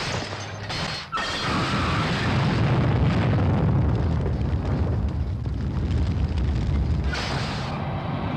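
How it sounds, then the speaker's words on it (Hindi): Cars blown up in an action-movie scene: a huge, roaring explosion blast followed by several seconds of loud, rumbling debris and fire, continuous and close. "देखो तो पटाखों की तरह गाड़ियों को कैसे उड़ा रही है"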